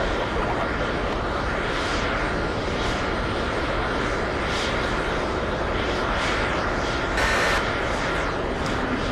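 Airplane engine rumble at an airport as aircraft taxi on and off the runway, a continuous loud broadband roar with no break.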